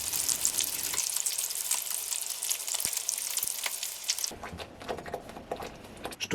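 Continuous crackling sizzle of meatballs frying in a pan, even and close, with occasional soft pops and a shift in tone partway through.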